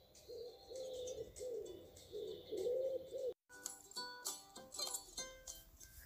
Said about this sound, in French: Perché sur le toit, Pigeon se contente de roucouler.